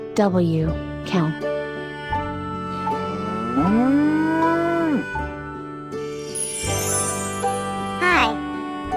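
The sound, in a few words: cow mooing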